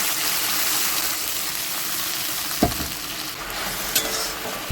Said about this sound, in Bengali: সেই আদা বাটাটা দিয়ে দিচ্ছি। ভালো করে কষিয়ে নেব।